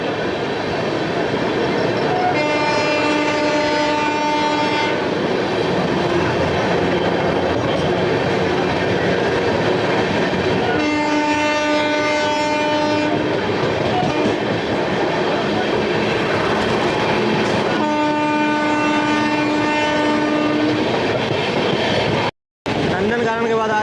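The Gaya–Delhi Amrit Bharat Express runs along at speed, a loud continuous rumble and clatter of wheels on rails, with three long droning horn blasts spread across the stretch.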